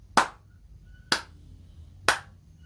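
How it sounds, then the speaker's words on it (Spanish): Hands clapping in a children's violin music lesson, three crisp, evenly spaced claps about one second apart, close and clear against a quiet room. "Lo hacemos primero con las palmas."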